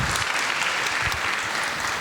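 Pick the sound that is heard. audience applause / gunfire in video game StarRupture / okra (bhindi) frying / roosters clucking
audience applause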